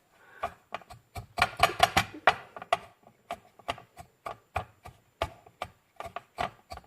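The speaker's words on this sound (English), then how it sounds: "And just grind them down into a powder." Biscuits are ground down into a powder for a mug cake, heard as a quick series of sharp, close crunching taps in irregular rhythm, with no talking.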